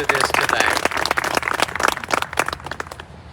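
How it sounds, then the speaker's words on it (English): Dense crowd applause at a Pearl Harbor remembrance ceremony on the Georgia Military College campus in Milledgeville, loud and sustained, then thinning into scattered claps before fading out. "So would you please give General Caldwell, his staff, a big round of applause"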